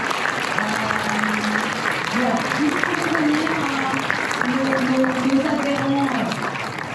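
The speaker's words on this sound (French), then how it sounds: "je voudrais que vous les applaudissiez" Audience applause at the opening ceremony of a film festival, a steady broadband clatter filling the room while a voice speaks over it.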